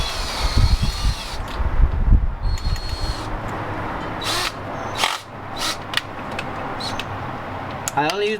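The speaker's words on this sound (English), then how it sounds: "I only use the power tools to take them out when they're already loose" A power tool spins a threading tool back out of a head bolt hole on a 2003 Toyota Highlander 2.4L engine, with bursts of whirring and clicking under rumbling low noise, then ratcheting clatter toward the end.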